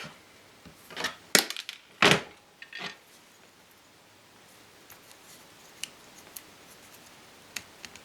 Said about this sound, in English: So we got to cut just a little bit off.